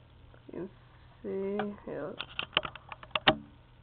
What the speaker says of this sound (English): here's my Targus Universal IR keyboard, which I purchased on eBay from Texas